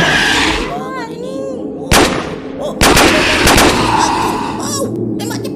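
Gunfire in the Jurassic World Evolution 2 video game, two sharp loud blasts and then a quick burst of several shots over a busy game soundscape, with a voice talking briefly at the start.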